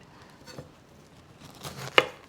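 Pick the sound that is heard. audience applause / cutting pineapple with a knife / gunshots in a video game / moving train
cutting pineapple with a knife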